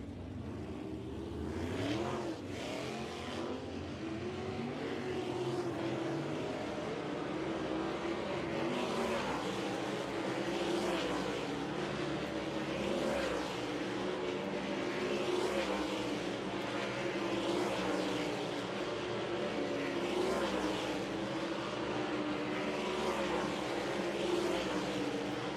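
Dirt track race cars during a hot lap session at Golden Isles Speedway: engines roar and surge in repeated passes, heard from a distance with a steady crowd-level din and faint commentary underneath.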